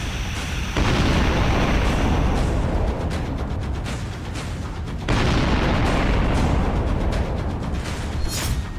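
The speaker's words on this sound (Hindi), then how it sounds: "कीव में दिन भर इसी तरह रूसी मिसाइलें गिरती रहीं।" Russian missiles strike residential areas of Kyiv during the war, heard as loud, sustained explosive roaring with two heavy blasts several seconds apart and rumbling, crackling noise between them.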